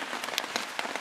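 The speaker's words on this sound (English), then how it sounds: "So it started to rain a little bit earlier than anticipated." Rain patters on a tarp at a wild camp, a steady close hiss of light drops with scattered sharper taps, no voices.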